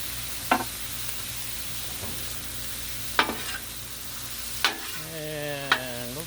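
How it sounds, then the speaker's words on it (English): Cauliflower rice with soy sauce stir-frying on a griddle: a steady low sizzle runs underneath while four sharp, scraping spatula strokes land at uneven intervals, the last trailing into a brief metallic ring. "And we'll give that a quick stir"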